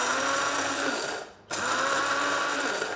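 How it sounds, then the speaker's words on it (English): Electric spice grinder whirring steadily as it grinds white peppercorns, loud and close, with a brief pause in the motor partway through before it resumes at full speed. "Now I'm using a spice grinder here."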